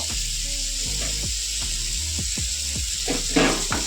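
Ridge gourd and coconut pieces frying in a pan, a steady close sizzle with a series of sharp spatula scrapes at regular intervals, no voices.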